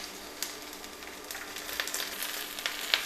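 Green chilies frying in a pan for lauki sabzi, a steady soft sizzle and crackle with small pops, close and fairly quiet with no talk.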